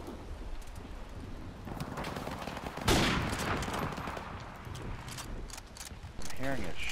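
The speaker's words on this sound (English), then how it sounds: "I'm hearing a shot, but I don't fucking see him." Gunfire in Call of Duty Remastered hardcore multiplayer, a dense burst of shots crackling amid continuous game noise and shuffling, with louder bursts near the middle and the end.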